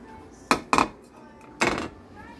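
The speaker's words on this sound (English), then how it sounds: "And then I'm going to get a small pan." A small metal pan is pulled out in a home kitchen, giving three sharp clanks and clinks of cookware, a quick double knock followed by a single louder rattle, close by with no talking.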